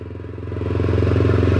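A Kawasaki Ninja motorcycle engine drones steadily while riding, a loud low rumble that builds slightly in strength and stays constant, with no voices.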